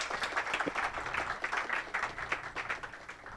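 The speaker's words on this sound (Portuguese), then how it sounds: "Uma salva de palmas ao professor Diamantini." An audience at an administration congress panel on AI in organisational management applauds a professor: a dense, steady patter of many hands clapping at moderate distance for a few seconds.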